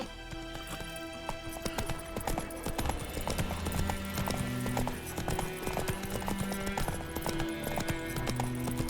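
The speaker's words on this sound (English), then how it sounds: "Whoa there, Roach" Hooves of the horse Roach clip-clop at a steady trot in The Witcher 3 video game, loud and close throughout over a continuous game soundtrack and ambience.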